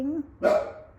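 A dog gives a single short bark up close at moderate volume, following a brief hiccup-like vocal sound.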